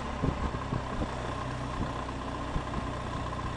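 Motorcycle engine running steadily after a downshift to second gear for a tight bend, a low continuous drone with faint wind rush and a few soft knocks, no voices.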